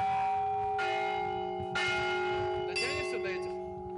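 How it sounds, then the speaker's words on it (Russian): Church bells rung by hand in the bell tower of the Church of St. Nicholas the Wonderworker, with several bright overlapping strikes and long ringing tones, nearby and loud, with faint voices underneath. "И даже позвонили в колокола."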